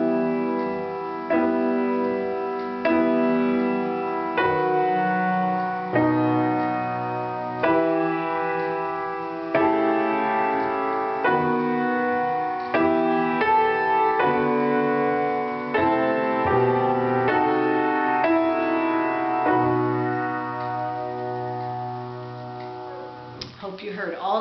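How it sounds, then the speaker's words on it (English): A piano-like harmonized passage of steady block chords moving in even rhythm, ending on an unresolved Phrygian half cadence in a minor key; no voices over it. "there's a Phrygian half cadence. You remember that was 4 to 5 in minor"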